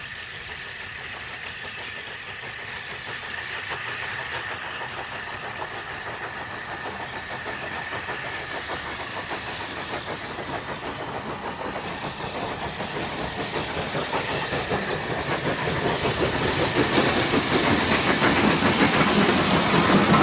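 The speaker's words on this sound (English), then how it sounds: "The pair are seen here together departing away from Swanage with a train bound for" SECR O1 No.65, a steam locomotive, departs Swanage hauling a passenger train, its steady chuffing and hiss growing louder and closer over about twenty seconds with no talk.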